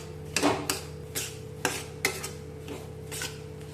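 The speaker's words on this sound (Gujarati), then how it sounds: "આપણે એકદમ સારી રીતે મિક્સ કરી અને હલાવતું રહેવાનું તેથી મિલ્ક પાવડરના પણ લમ્સ ન થાય" A milk powder mixture for Kathiyawadi amrut pak is stirred in a pan, with a spoon knocking and scraping against the metal in a slow, irregular series of clinks over a low background hum.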